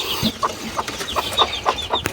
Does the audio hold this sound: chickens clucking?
yes